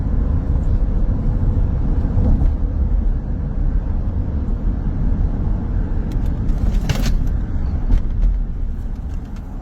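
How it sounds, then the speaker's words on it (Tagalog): Steady road traffic on an elevated roadway, a continuous dense rumble of passing vehicles heard from nearby, with no talk over it. "Ayan, na-traffic sa taas."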